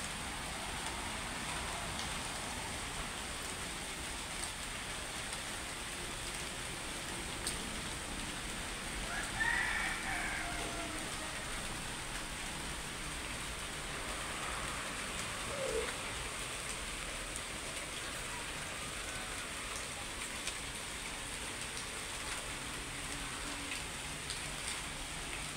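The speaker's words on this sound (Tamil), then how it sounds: "இங்கே மழை பெஞ்சிட்டு இருக்கு." Light rain falls steadily outdoors in an even, soft patter that continues throughout, with faint bird calls now and then in the background.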